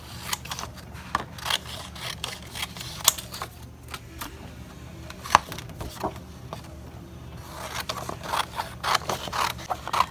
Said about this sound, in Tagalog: ito na lang yung ginagamit ko, yung gunting